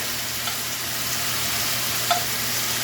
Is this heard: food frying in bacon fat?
yes